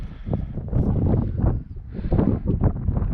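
Gusty wind on a frozen river during winter ice fishing buffets the microphone with loud, low rumbling blasts that rise and fall irregularly.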